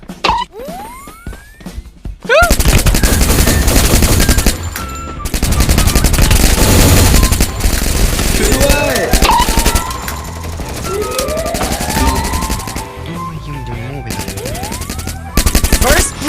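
Rapid automatic gunfire in the Free Fire video game, dense bursts of shots with brief pauses between volleys, loud and close, with sliding sound effects mixed in.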